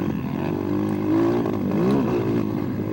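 An SSR 189 motocross bike engine out on a dirt track, with a steady close-up drone that rises and falls as the throttle is worked, and no speech.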